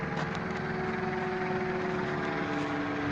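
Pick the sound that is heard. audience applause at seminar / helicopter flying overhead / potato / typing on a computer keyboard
helicopter flying overhead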